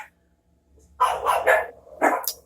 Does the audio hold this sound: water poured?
no